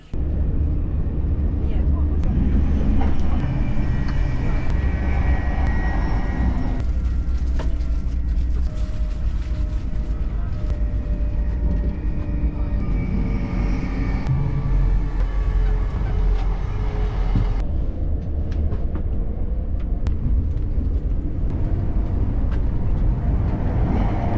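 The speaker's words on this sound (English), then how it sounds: "This is our third train of the day." A continuous low rumble and rattle of a moving passenger train carriage heard from inside fills the clip, with people talking over it.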